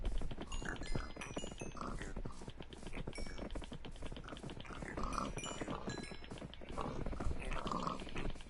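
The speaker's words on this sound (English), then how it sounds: "Anyway, let's feed the pigs." Pigs oinking on a Minecraft farm, with scattered short grunts and snorts over a busy, clicky background, steady and moderately loud throughout with no talking.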